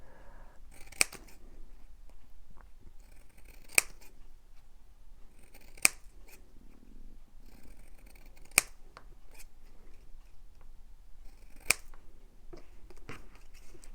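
Scissors snipping paper scraps for a Christmas craft, a series of crisp, separate cuts spaced a few seconds apart, close and quiet against a low background hum.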